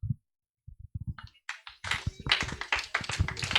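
Scattered taps give way to a rising, dense round of clapping in praise during prayer at a church gathering, loud and close.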